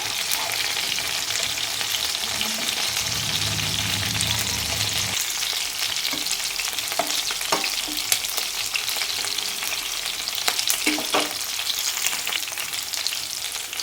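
Pieces of garlic chicken sizzle in a pan, a steady close crackle that carries on throughout, broken by a few sharp spits and faint clinks, with no voices.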